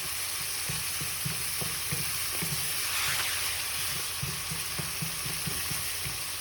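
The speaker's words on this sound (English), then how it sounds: "Just give that a little stir." Food sizzling and simmering in a pot on a stove while a spoon stirs it, with soft rhythmic scraping and knocking taps over a steady bubbling hiss, close and quiet, no voices.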